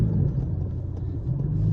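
A car stuck in a cornfield spins its wheels, a strained rumbling engine drone with uneven surges and dips, close and loud, no talking.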